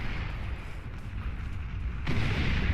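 A nuke detonates in the Beyond All Reason strategy game, destroying long-range plasma cannons. A deep, rumbling blast roars continuously, then swells abruptly louder near the end.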